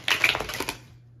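A quick burst of riffling card clicks runs for under a second, close and crisp, then stops into quiet.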